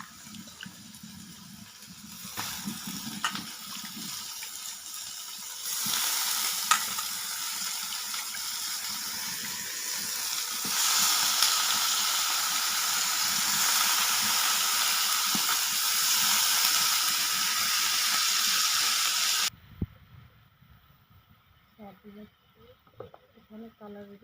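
Chicken goes into fried onions in a pan on a clay stove. A loud, steady hissing sizzle swells and holds, then cuts off abruptly, with a voice talking at the start and end.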